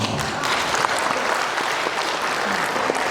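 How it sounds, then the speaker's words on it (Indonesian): A dense, continuous wash of audience applause at a community leaders' training session, loud and sustained throughout without pause. "Tepuk tangan."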